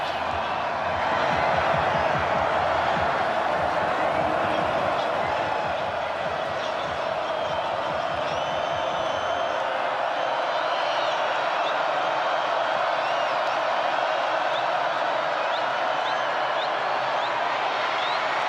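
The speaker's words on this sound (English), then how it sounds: "and this crowd is into it" Dense roar of a college football stadium crowd at Georgia Tech versus NC State during a fourth-quarter third down, a steady wall of cheering noise with a commentator talking over it.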